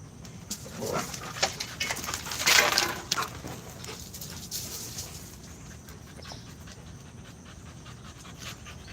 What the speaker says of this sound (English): It's a super vocal dog.